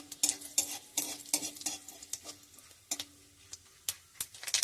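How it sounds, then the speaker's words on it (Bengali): Half a spoon each of five-spice and cumin with a bay leaf fry lightly in oil, a faint soft sizzle broken by frequent sharp clinks and scrapes of a spoon stirring against the pan. "এবারে ফোড়নটা একটু ভেজে নেবো হালকা।"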